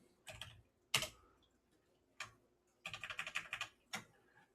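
Sparse clicks on a computer keyboard as a short command is typed into a terminal: a few isolated keystrokes, then a quick cluster of taps, close and quiet.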